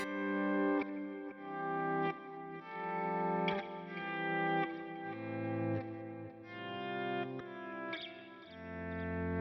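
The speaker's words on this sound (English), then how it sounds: "auto volume echo." Guitar through a Line 6 Helix auto volume echo effect: each chord swells in softly without attack and trails into repeating echoes, a slow wash of layered notes rising and fading in steady waves, no talking.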